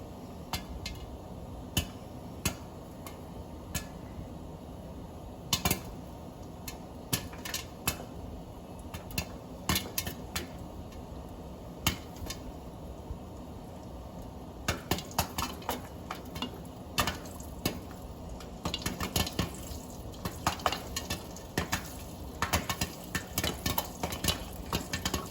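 Popcorn kernels popping inside a covered pot on a home kitchen stove, sharp pops scattered irregularly at first, then coming thicker and faster, over a steady low burner hum.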